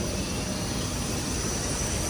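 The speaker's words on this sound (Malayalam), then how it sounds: "ഈ കിടക്കുന്ന ഫ്ലൈറ്റ്സ് മുഴുവൻ എത്യോപ്യൻ എയർലൈൻസിൻ്റെ ആട്ടോ" A steady, broad roar from Ethiopian Airlines airliners parked on an airport apron, a constant engine and ground-equipment drone heard without speech.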